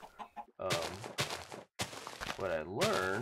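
A chicken in the video game Minecraft clucks in short, rapid bursts while someone talks over it.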